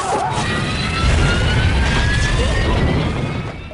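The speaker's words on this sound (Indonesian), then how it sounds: "pesawat mengalami guncangan hebat dan semua orang berteriak ketakutan." Aircraft cabin during violent turbulence in the film Final Destination: a loud, continuous roaring rumble with rattling and a rising whine, sustained and close throughout.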